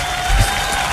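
Radio morning show studio applause and cheering, a brief dense burst of crowd noise, loud and bright, lasting only a moment.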